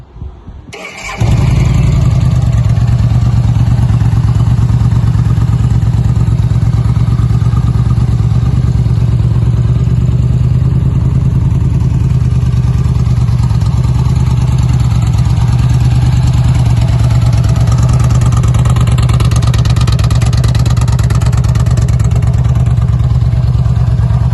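A Yamaha XVS 950 Midnight Star fuel-injected motorcycle with low mileage starts after a brief crank, then settles into a steady, loud, close idle with a deep rumbling exhaust that runs uninterrupted to the end.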